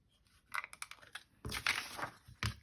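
A handheld paper punch cuts a zigzag border with tiny hearts into paper, giving a few close, crisp crunching clicks and papery rustles, with a louder crunch burst midway and a final snap.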